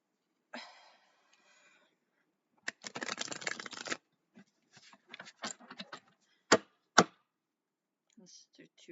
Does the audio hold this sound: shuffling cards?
yes